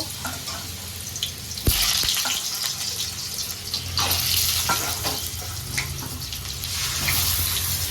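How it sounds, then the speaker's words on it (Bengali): Potatoes for a meat curry fry in hot oil, a continuous loud sizzle and hiss with occasional clinks and stirring noises. "তেলটা গরম হয়ে গেছে। এবার আমি মাংসের আলুগুলো একটু ভেজে নেব।"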